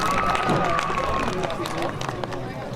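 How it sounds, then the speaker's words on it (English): An audience at a high school track and field senior night applauds a track athlete, close steady clapping and crowd noise with a voice speaking over it at the start. "Please give a round of applause for Ava Hallberg"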